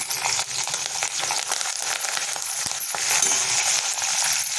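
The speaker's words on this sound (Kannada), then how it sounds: "ಮಾಮೂಲಿ ಅವಲಕ್ಕಿಗೆ ನಾವು ಹೇಗೆ ಒಗ್ಗರಣೆ ಹಾಕ್ತೀವೋ ಆ ರೀತಿ ಹಸಿಮೆಣಸಿನಕಾಯಿ ಹಾಕ್ಕೊಳ್ಳೋಣ" Green chillies and curry leaves sizzle and crackle in hot oil for a ragi poha tempering, a loud, steady, close hiss with scattered sharp pops throughout.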